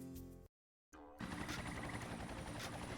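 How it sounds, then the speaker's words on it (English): Helicopter in the video game Ty the Tasmanian Tiger 2, a steady whirring rotor drone that cuts out briefly and then returns louder and denser, with no one talking. "You use the chopper to pick them up and move them over the pontoon."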